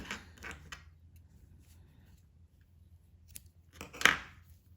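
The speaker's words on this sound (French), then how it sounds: "Ensuite, une maille en l'air et je coupe mon fil." Scissors snip through crochet yarn in one sharp, close cut near the end, after a few faint handling rustles in a quiet room.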